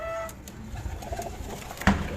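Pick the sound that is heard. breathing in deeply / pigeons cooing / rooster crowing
pigeons cooing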